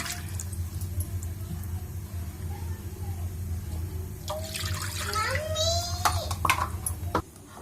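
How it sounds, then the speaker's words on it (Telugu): Water pours and splashes into a pan nearby over a low steady hum. Faint voices can be heard in the background. "టూ కప్స్ వాటర్ యాడ్ చేసుకోవాలి"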